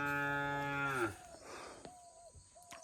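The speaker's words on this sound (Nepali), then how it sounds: "गाई बाछी सानो छ कि, कराउँदैछ" A small calf moos once, loud and close, in a long drawn-out call that fades out after about a second, followed by quieter rustling and faint high tones.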